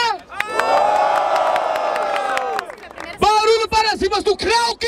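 Crowd at a rap battle roaring and whooping for a rapper, a loud sustained cheer with shouted voices, a brief dip, then another surging wave of yells.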